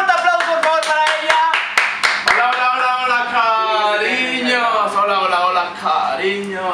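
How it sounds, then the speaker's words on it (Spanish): A studio audience on a talk show claps for a guest in a short burst of applause, which quickly fades as a voice starts talking over it. "Un fuerte aplauso, por favor, para ella."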